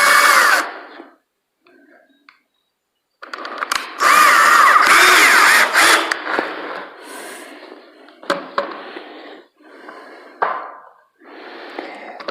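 A power drill drives 3-inch screws into a wooden sawhorse board in several short, loud whirring bursts separated by pauses, with a couple of quick trigger blips between the longer runs.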